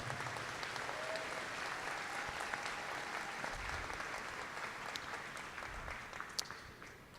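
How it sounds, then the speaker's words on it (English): An audience applauds at a ribbon-cutting ceremony for the Midco Aquatic Center in Sioux Falls. The clapping is steady, dense and fairly distant and lasts the whole stretch without a break. "Let's give these two companies locally a round of applause."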